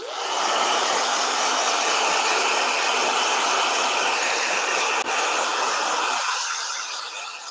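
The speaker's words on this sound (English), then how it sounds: "Yeah. Blow dryer." A blow dryer runs loud and steady at close range as a continuous broadband whoosh, then drops off sharply near the end.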